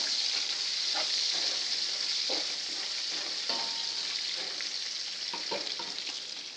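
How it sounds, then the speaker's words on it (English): Bacon and leek soup sizzles in a pot while a utensil stirs it, a steady frying hiss with scattered scraping strokes, close and continuous. "just give this a quick stir before I abandon it for a minute"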